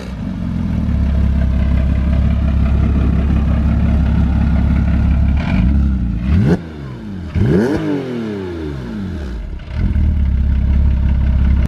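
A car engine fitted with headers idles loudly and roughly, dips as it cuts out around the middle, then fires back up with a couple of sharp revs before settling into a steady, throaty idle.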